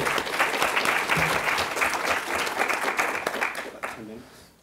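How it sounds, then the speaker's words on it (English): A conference audience applauding at a policy event, dense steady clapping from a crowd that fades out toward the end as a voice begins. "give a big round of applause"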